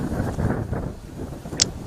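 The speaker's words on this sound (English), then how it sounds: "It's pretty windy out here" Strong wind gusts across an outdoor cricket ground, a steady low roar of wind buffeting the microphone with a brief sharp knock near the end.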